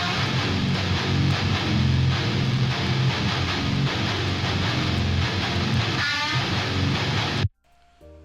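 Electric guitar driven through a tube screamer-style overdrive pedal, a dense, distorted riff playing loud and steady before cutting off abruptly near the end into near silence.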